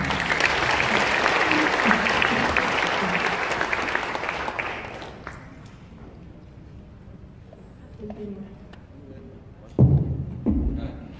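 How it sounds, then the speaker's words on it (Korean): An audience applauds a student's mother at a public gathering in Gwangju, dense clapping that fills the first five seconds and then fades into a quiet room with a few scattered sounds and a louder thump near the end. "박수 한번 주십시오"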